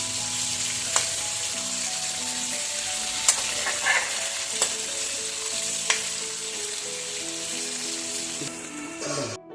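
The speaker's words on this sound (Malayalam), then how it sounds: "ഇടയ്ക്കിടയ്ക്ക് ഒന്ന് ഇളക്കി എല്ലാ വശവും വാടത്തക്ക രീതിയിലൊന്ന് ഇളക്കിയിട്ട് കൊടുക്കണം" Brinjal masala curry frying steadily in a pan, a continuous sizzle with several sharp scrapes and clacks of a spoon as it is stirred, fairly close, with no talk.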